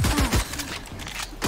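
Rapid gunfire in the video game Valorant, several sharp shots in quick bursts, loud and near, with game sounds layered around them.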